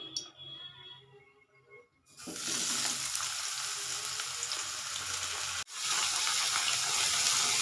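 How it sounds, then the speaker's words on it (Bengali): After a quiet start, thin strips of potato and eggplant drop into hot oil with a sudden loud, dense sizzle that carries on steadily, briefly broken by a short gap before the frying resumes. "এগুলোকে তেলের মধ্যে দিয়ে একটু নেড়ে নেব।"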